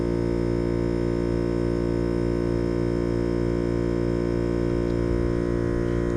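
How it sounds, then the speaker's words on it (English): Air compressor running steadily while inflating an RV tire, a constant loud motor hum with strong harmonic drone throughout and no pauses. "you can hear the compressor running"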